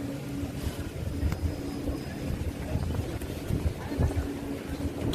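Steady gusty wind noise outdoors in Ghent, Belgium, with rain hitting an umbrella as a broadband wash, low rumbles, and faint scattered taps throughout.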